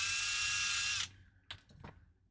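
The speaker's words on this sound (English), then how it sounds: "Let's drill all of them." A power drill whirs loudly at high speed for about a second, then stops abruptly, followed by a few faint clicks and handling knocks.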